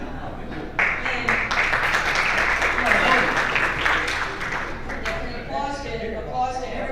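An audience at a Golden K Kiwanis club meeting in Decatur breaks into sustained, room-filling applause that swells and then fades, with a voice speaking briefly as it dies down.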